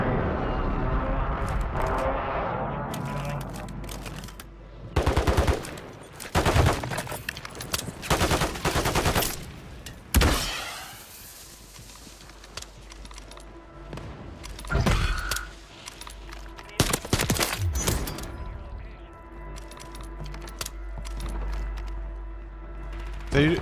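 Gunfire in the battle-royale shooter Warzone 3 comes in loud bursts of automatic and single shots that alternate with quieter stretches, and a player talks and reacts between the shots.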